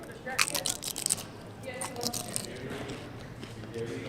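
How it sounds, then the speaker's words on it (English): Crunching bites of chips, eaten close to the microphone during a live baseball game broadcast; a few crisp crackly bursts sound near and moderately loud, mixed with a voice talking. "Listen to that crunch."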